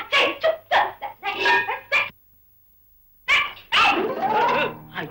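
A dog barks and yips close by in a rapid series of sharp, tonal barks, then goes quiet for about a second before another burst of excited barking with whimpering.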